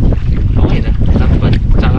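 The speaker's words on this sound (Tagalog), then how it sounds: "malakas na ang alon, malakas na ang hangin" Strong sea wind buffets the microphone on a small paddled fishing boat as rough waves slosh around the hull, loud and continuous.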